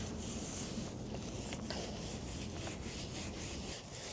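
Brush scrubbing an old teak table with cleaner, a continuous wet rubbing and scraping sound in steady back-and-forth strokes, close up and fairly loud, with no one talking.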